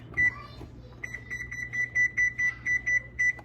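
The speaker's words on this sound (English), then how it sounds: "So I'm gonna put my timer" A kitchen timer is set for baking chocolate chip cookies, giving a run of short, evenly spaced electronic beeps, close and clear, with a few button chirps before the steady series of about seven bright tones.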